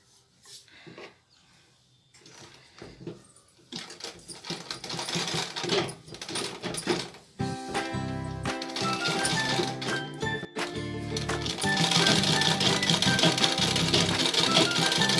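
An old t-shirt being made into a doormat is stitched on a sewing machine: quiet handling at first, then a rapid mechanical whir that builds and runs almost continuously, with a brief pause midway.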